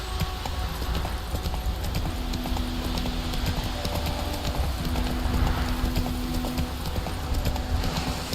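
Roach, a horse in the video game Witcher 3, gallops with steady, close, loud hoofbeats that run throughout over game ambience.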